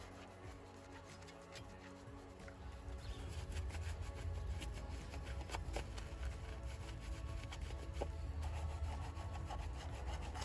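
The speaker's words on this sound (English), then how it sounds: "And next we just clean the lugs using a designated wheel brush." Brisk scrubbing of an Audi A3's wheel rims and lug nuts with a wheel brush, close and continuous with dense quick bristle strokes that grow louder partway through, no voices.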